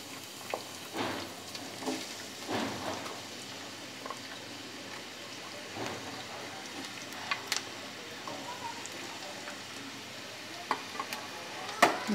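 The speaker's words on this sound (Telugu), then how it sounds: "ఉల్లిపాయలు వేయించుకుంటున్నాను ముందుగా." Onions frying in hot oil with a steady low sizzle, broken by occasional stirring scrapes and knocks of a utensil against the pan, heard close up with no talking.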